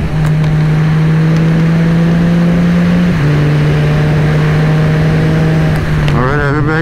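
A Can-Am three-wheel motorcycle fitted with a Pedal Commander throttle controller drones loudly and up close at a steady pitch, dips briefly midway, then begins climbing as the engine accelerates at the end.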